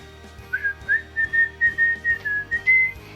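One person whistles a short melody of about a dozen clear, close notes in a bouncing rhythm against a quiet low background, with no talking.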